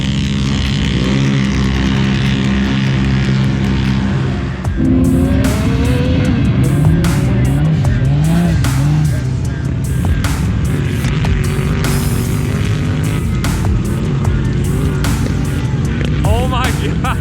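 Cars and quads racing on the drag strip at the Glamis sand dunes, with loud engines revving and droning nearby and passing whines rising and falling, while people talk over the noise.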